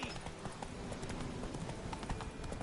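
A horse gallops in The Witcher 3 video game, a steady, rapid clip-clop of hooves at moderate level throughout.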